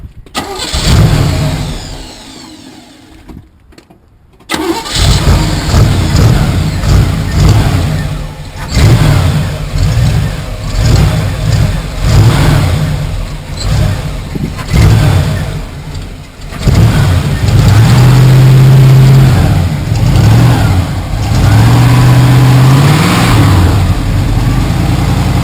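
A 1981 Chevy 1-ton dually truck engine cranks, starts and revs repeatedly, loud and close, with rough idling between throttle blips and some brief talk underneath.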